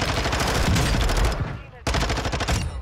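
Rapid bursts of Vaznev rifle fire in Warzone 2 on Ashika Island, loud and close, a sustained stream of shots that breaks off briefly before a second burst.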